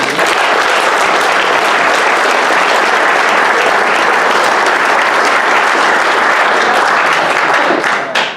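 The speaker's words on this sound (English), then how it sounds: "So just a quick round of applause for the players." A room full of people at a boys' varsity soccer team dinner gives a loud, sustained round of applause that holds steady for about eight seconds before cutting off.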